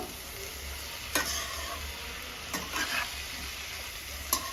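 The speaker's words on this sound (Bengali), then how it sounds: "দেখো আমি কিন্তু এটা ভালো করে নেড়ে নিচ্ছি মিক্স করে নিচ্ছি" Pumpkin greens fry with a fish head, a soft, steady sizzle with three or four brief scraping stirs of a spatula in the pan.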